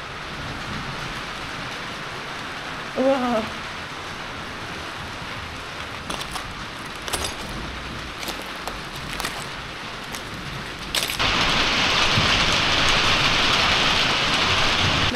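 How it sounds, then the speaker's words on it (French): Heavy rain pours down outdoors, a steady dense hiss that swells sharply louder near the end, with a brief exclamation and scattered knocks over it. "Il pleut énormément dehors, c'est la première fois qu'il pleut autant."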